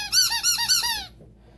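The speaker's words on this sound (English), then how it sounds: "It's a pacifier that squeaks." A squeaky rubber pacifier toy for puppies gives a quick run of five or six bright, honking squeaks lasting about a second, close and fairly loud, then stops into near silence.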